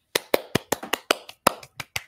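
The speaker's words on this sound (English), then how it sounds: "Give me a little clap." About ten sharp hand claps ring out close and loud at a quick, slightly uneven pace, with no talking.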